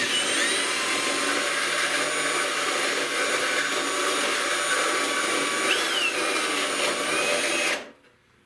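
A power drill whines steadily as it bores into a rusted radiator support on a 1970 Buick Wildcat, loud and continuous with some pitch wavering, then cuts off abruptly near the end.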